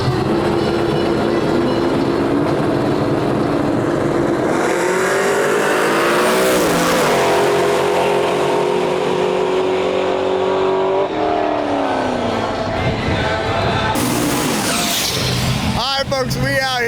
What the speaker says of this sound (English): LT powered turbo Mustang out of Alberta, Canada, going up against a 4th gen F-body Camaro.